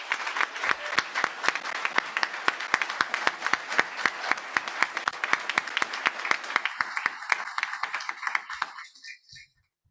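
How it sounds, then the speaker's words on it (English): Audience at the Slifka Center grand re-opening ceremony applauds with dense, sustained clapping from many hands for about nine seconds, then the clapping thins and stops. "let's have a round of applause."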